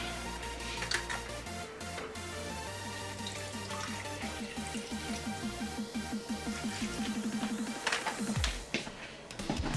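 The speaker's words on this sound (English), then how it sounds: "I'm gonna put a bit of water first." Tap water runs into a protein shaker bottle, with a steady stream and a resonant tone that rises in pitch as the bottle fills. The sound is close and fairly quiet, with no speech.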